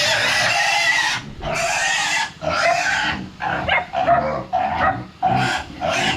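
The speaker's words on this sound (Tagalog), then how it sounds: "Yung mga baboy natin" Hungry pigs on a small hillside farm squealing loudly and insistently in a rapid series of harsh, overlapping bursts close by, with short gaps between calls.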